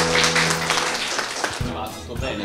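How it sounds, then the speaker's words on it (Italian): Children and adults applaud after a child recites a poem at a Father's Day school event, a dense burst of clapping with voices mixed in, fading as talk takes over near the end. "facciamo un applauso"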